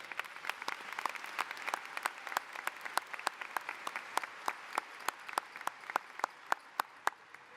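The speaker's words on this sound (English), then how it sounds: "please give everybody a round of applause" An audience at a 2018 high school graduation ceremony claps steadily, with scattered distinct hand claps ringing out over a soft, sustained patter of applause from a large seated crowd.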